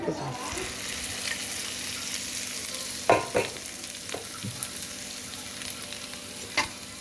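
Lemon rice being stirred in a pan after the stove is switched off, a soft steady sizzle broken by several sharp clinks and scrapes of the spoon against the pan, no talk.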